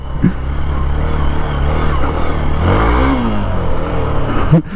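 A Hero Xpulse 200 4V motorcycle ridden on a sandy road, its mid-pitched engine droning steadily up close with a rise in revs midway and a short thump near the end.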